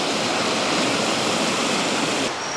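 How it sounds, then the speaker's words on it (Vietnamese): Strong wind roars near a mountain stream at a rural bridge construction site, a loud continuous rushing wash that mixes with flowing water and stays steady throughout. "Không ngờ là ở đây là gần khe suối nó gió to thế"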